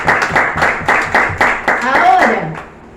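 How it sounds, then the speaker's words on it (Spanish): A church congregation claps in rhythmic bursts of group applause, close and fairly loud, with voices calling out over the clapping before it fades. "Dale un fuerte aplauso al Señor"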